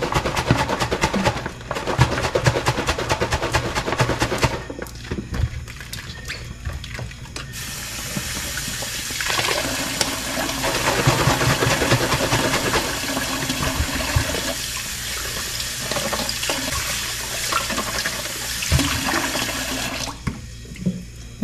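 Water from a city tap runs steadily and loudly, gurgling as bottles fill, with a brief pause and a change in the flow partway through.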